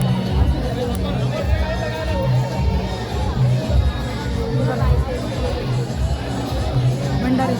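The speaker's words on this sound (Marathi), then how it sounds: "आमच्या इथे भंडार आहे आणि बघा गर्दी किती आहे" Dense crowd hubbub fills a Sai Baba bhandara feast, a steady babble of many voices with occasional louder calls, close and continuous throughout.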